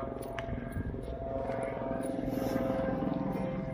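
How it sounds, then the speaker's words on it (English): A helicopter passes overhead at Niagara Parks botanical garden in Ontario, a steady broadband rumble of rotor and engine that swells slightly, heard from a distance with faint outdoor ambience. "Chopper."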